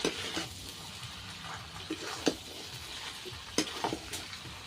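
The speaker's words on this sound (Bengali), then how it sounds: "ভালো করে মশলার সাথে একটু মিশিয়ে নেব।" Pre-fried young jackfruit stir-fried with spices in a pan, a soft steady sizzle broken by occasional clinks and scrapes of a utensil against the pan, fairly quiet and close, no speech.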